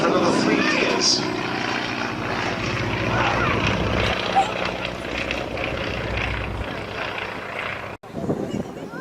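A vintage aircraft with a Whirlwind radial engine flying at a race-day airshow, its steady droning roar continuous throughout while a commentator talks over it over the public address.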